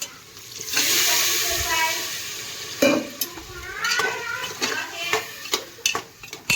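Water poured into sizzling tempered vegetables for khichdi gives a loud hiss and bubbling rush at first, settling into softer simmering with scattered clinks and stirring knocks close by.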